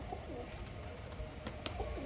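A Rajshahi pigeon coos softly in a few short, repeated low calls, faint against a steady outdoor background hiss.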